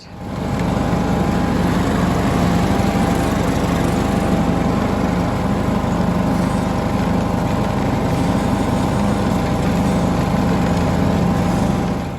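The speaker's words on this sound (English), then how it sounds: "That's the lawns mowed, looking very nice." A lawn mower runs steadily while cutting a garden lawn, its loud, continuous engine drone close by and unbroken throughout, with no voices.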